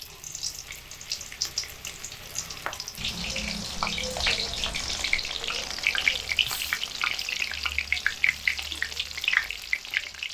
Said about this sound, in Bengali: এভাবে ফুলকপির পিসগুলো বেসনের মধ্যে হালকাভাবে চুবিয়ে নিয়ে তেলের মধ্যে দিয়ে ভেজে নেব।